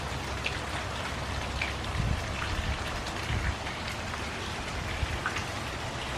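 Steady rain falls outside a house in Pensacola, a dense even patter on surfaces, close and continuous, with no one talking.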